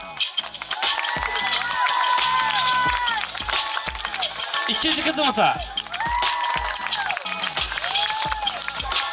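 A crowd at a large children's festival claps and cheers continuously while an announcer speaks over the noise, with music and chatter in the background.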